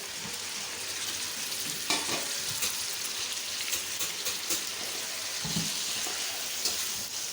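Potatoes for mixed vegetable sabzi hit a hot pan, a broad crackling sizzle filling the background with a few louder pops and clinks of a utensil against the pan.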